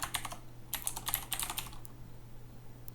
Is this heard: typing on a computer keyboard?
yes